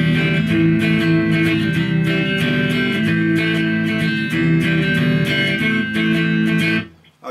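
Clean-toned electric guitar strumming open chords in a steady rhythm, loud and close with no voices, ringing out and fading at the very end.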